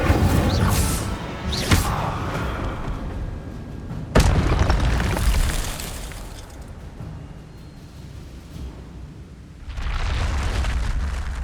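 Incendio fire spell cast in the video game Hogwarts Legacy, heavy fiery booms and bursts with whooshing swells, one sharp blast followed by rumbling, loud and close with no talk.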